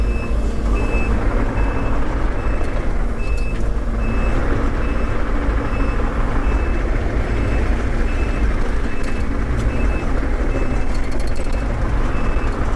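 A TB290 compact machine drives through a pond spillway outdoors, its engine a loud, steady rumble close by, with a repeating high reversing beep sounding over it the whole time.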